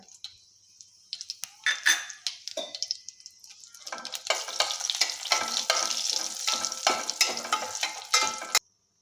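Cumin seeds, dried red chillies and bay leaves hit hot oil for a banana-flower curry, crackling and spitting loudly and close up, with irregular pops over a continuous sizzle and no talking.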